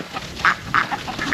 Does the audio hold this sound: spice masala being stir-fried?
no